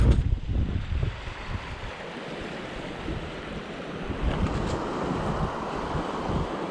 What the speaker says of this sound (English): There's a fair bit of swell rolling in